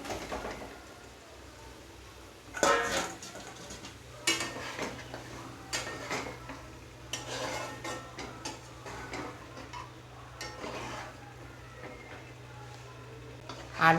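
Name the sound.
lid removed and fried potatoes added to the pot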